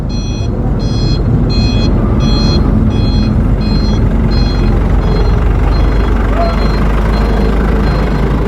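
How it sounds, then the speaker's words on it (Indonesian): Truck slowly reversing at a house demolition site to haul away rubble, its reversing alarm sounding a regular series of loud beeps that fade toward the end, under a heavy rumbling engine and background noise. "Perlahan-lahan satu truk mulai mundur"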